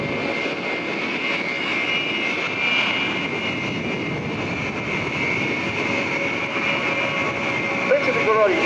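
Frecce Tricolori Italian Air Force aerobatic jets roar steadily overhead at the Quinte Airshow, a loud continuous engine rush with a sharp high whine, sustained for the whole stretch with crowd murmur beneath.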